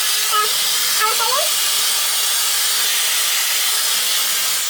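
Hair dryer with a snap-on curl attachment running, a loud, steady broadband hiss of airflow that fills the whole stretch, with a few faint tonal blips near the start.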